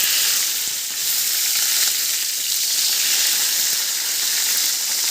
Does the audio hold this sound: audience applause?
no